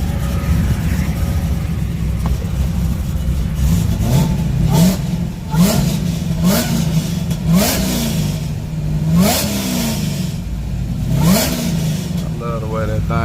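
Chevy-powered small-tire drag car with a cam, hood open at a dragstrip, revving in repeated rising blips over a loud, steady rumbling idle, close and continuous, with crowd and track noise around it.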